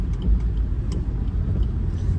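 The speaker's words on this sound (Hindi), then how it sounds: "ये गाड़ी ऐसे रोड पे चल पा रही है" Maruti WagonR car climbing a snowy road in Zanskar, a steady low engine rumble and tire drone continuous and fairly close throughout, with no talking.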